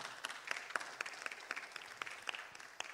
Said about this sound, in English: we just want to give him an amen and a clap